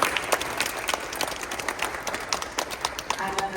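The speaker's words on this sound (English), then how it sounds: "round of applause for those 5 years." Audience applause for five-year students at an Ampediversary celebration performance: a burst of brisk, crowded clapping that carries on steadily, with voices talking underneath.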